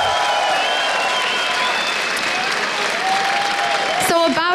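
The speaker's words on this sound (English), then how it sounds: "I love you very much for cheering for us." A large esports event crowd applauds and cheers loudly in a sustained roar, with shouts and whistles rising over it and a voice breaking in at the end.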